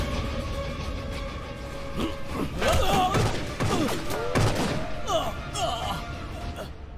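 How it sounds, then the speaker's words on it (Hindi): A gunshot on a dubbed action-movie soundtrack aboard a train comes as a series of sharp thuds and cracks in the middle of the scene, set against rumbling background noise. "गोली चलने की आवाज थी।"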